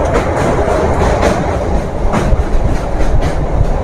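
A MEMU passenger train rumbles across the Nasipur bridge on a foggy morning, a loud, steady roar of wheels on rails with faint rhythmic clatter, heard continuously from on board.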